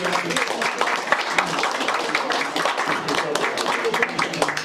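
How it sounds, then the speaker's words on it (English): Audience at a Lions Club induction ceremony clapping in a room, a steady patter of applause with people talking over it. "Another round of applause."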